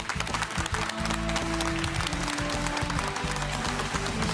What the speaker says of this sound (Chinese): 好，让我们掌声欢迎三位专家